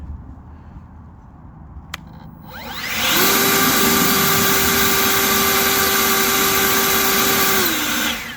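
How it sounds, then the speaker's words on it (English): An EGO 56V 765 CFM cordless leaf blower is switched on, its whine rising over a couple of seconds to a loud steady high-pitched roar on turbo, then briefly winding down at the end; quiet outdoor background precedes it. "I'm gonna turn it on to regular, and then I'm gonna turn it on turbo"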